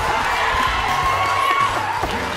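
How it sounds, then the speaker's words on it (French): Audience at a programme event in Lubumbashi cheers and shouts, a loud continuous crowd roar with whoops and a few voices rising above it. "Vos applaudissements."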